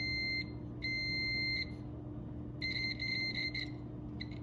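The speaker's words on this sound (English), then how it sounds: "if we hear a beep, that's going to indicate that there's continuity" A continuity tester on solder seal wire connectors gives a steady high-pitched electronic beep in long tones, stopping and restarting, over a constant low electrical hum.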